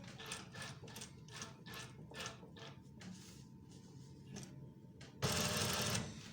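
Sewing machine stitching a cuff placket on a garment, a rhythmic series of close mechanical needle strokes that pause, then a short burst of fast continuous running, no talking.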